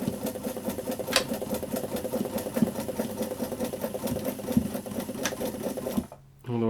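Sewing machine running a wide zigzag stitch while making tree straps, a fast steady mechanical chatter that stops abruptly near the end.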